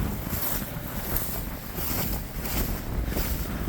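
Steady wind blows across a thin, short drought-stricken hay field, a constant rushing roar with heavy buffeting on the microphone and no other sounds.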